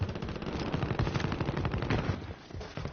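Dense, rapid gunfire from a shooting video game, with overlapping bursts and shots rattling steadily and loudly for the whole stretch, no talk over it.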